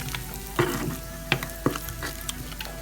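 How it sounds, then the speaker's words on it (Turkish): A spoonful of dried mint sizzles in a pan for manti sauce, a soft steady frying hiss punctuated by a few sharp clicks of a utensil against the pan, close and without talk. "Bir yemek kaşığı nane atacağım. Ve kavuracağım onu."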